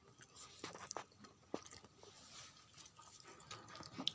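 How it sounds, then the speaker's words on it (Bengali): Someone eating spicy cooked greens in winter, with soft wet chewing and a few crunchy bites close by, quiet and intermittent, without talking. "আবারও খাচ্ছি।"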